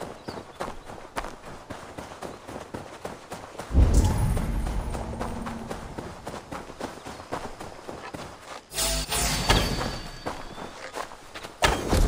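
Horses gallop in the Assassin's Creed Valhalla video game, with a steady, rapid clatter of hooves running throughout over game ambience and a few heavier thumps.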